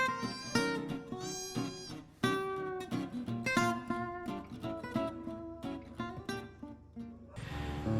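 A cat cries out for help with a string of loud, clear meows, some drawn out and some clipped, close by with short pauses between calls.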